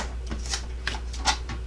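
Scissors cut through paper for a handmade Valentine card, making several quick, crisp snips in an irregular rhythm, close up and alone.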